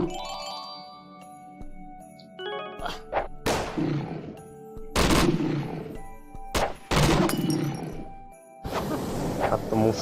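Machine gun fire in a strategy video game as blue dinosaur units face machine gunners, coming in loud repeated bursts over a busy mix of game chimes and effects, with a voice talking at times.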